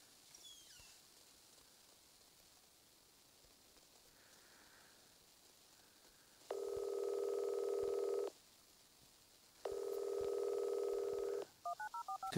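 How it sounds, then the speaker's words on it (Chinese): A telephone rings twice in an audio drama, each ring a long, steady electronic warble of about two seconds separated by a pause, followed by a short flurry of beeps, all clear over quiet background hiss. "电话响"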